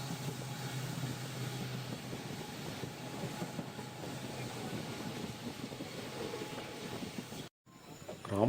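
A passenger train running between Rameswaram and Madurai rumbles steadily from inside the carriage, a faint continuous rolling noise with soft rail clatter, briefly cutting out near the end.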